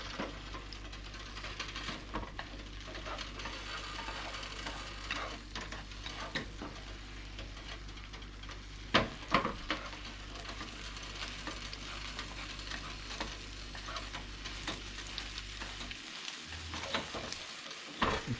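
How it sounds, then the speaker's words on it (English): Eggs with cucumber are scrambled in a frying pan over a soft, steady sizzle, with repeated scrapes and taps of a spatula stirring throughout. No voices are heard. "Scramble like that. You don't need to scramble it too much."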